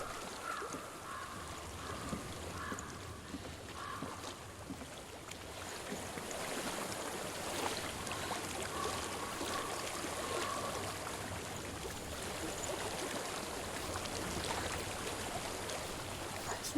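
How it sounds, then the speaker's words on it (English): Steady rushing water from a stream in the video game Hellblade: Senua's Sacrifice runs continuously at a moderate level, with soft splashes and a faint background tone, no voices. "I hear water. Go to it."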